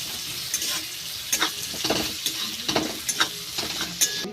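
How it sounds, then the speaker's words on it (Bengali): Chopped onion, grated ginger and grated garlic frying in a pan with cardamom, cinnamon and cloves, a steady close sizzle broken by scraping stirs of a spatula. "ভালো করে ভাজা ভাজা করে নেব।"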